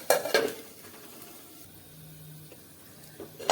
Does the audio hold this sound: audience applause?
no